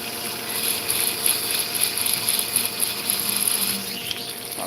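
A rotary burr grinds fire agate in a steady, close, high-pitched whirring buzz with a slight rattling texture, continuous throughout and with no talking.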